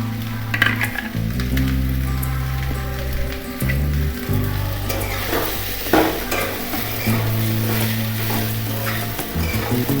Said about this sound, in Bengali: বাঁধাকপি দিয়ে একটু ভালো করে নাড়িয়ে দেবেন।